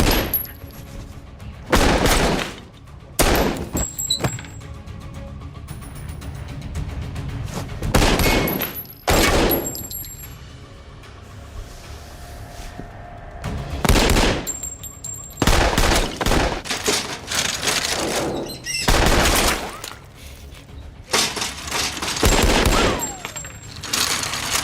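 Gunfire from an action-film opening shootout in a Hindi-dubbed movie: loud bursts and single shots recur in irregular clusters across the whole stretch, with brief quieter gaps between volleys.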